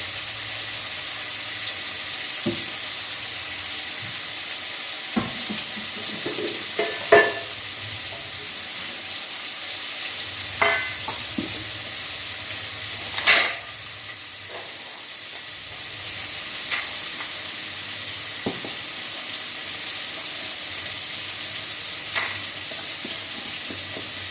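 Tomato chutney with salted, softened tomatoes cooks in a pan, giving a steady low sizzle with occasional stirring scrapes and clinks, fairly even and close, with no talking.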